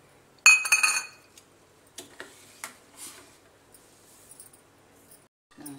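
A quick burst of metallic clinking, like a spoon knocking around a pot while stirring sugar into water, followed by a few soft taps and scrapes in an otherwise quiet room.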